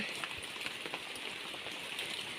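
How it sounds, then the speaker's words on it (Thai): Rain falling outdoors near a riverside boat landing during a wet-season walk, a soft, even patter and hiss of drops on surfaces, steady and fairly faint throughout with no talking. "ฝนก็ตกนะคะ"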